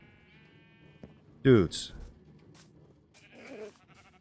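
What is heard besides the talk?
sheep bleating in Minecraft video game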